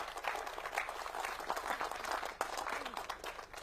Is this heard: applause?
yes